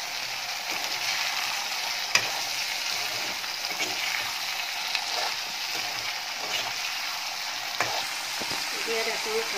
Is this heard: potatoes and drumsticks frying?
yes